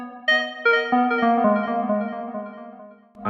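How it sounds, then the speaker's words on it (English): Synth pluck in electronic funk music production, a string of bright, tonal plucked notes with sharp attacks and short decays, played alone and clean. "So first off we're gonna start with a pluck."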